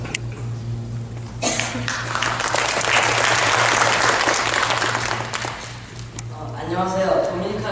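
Church congregation applauding to encourage children about to share their experiences from a trip to the Dominican Republic; dense, steady clapping swells for several seconds, then fades as a voice begins speaking near the end over a low hum.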